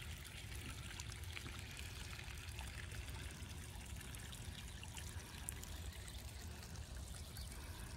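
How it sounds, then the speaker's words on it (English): Irrigation water flows and trickles steadily and softly, a continuous gentle rush with no other sounds. "I think the sound of water is peaceful."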